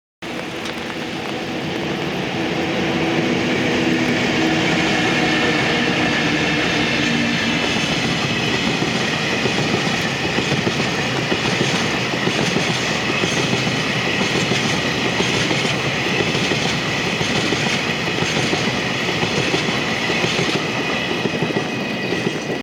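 A JR Freight EF64 electric locomotive pair hauling freight train 8084 on the Chuo West Line, passing close as a loud, sustained roar with rhythmic clickety-clack of wagons over rail joints for over twenty seconds.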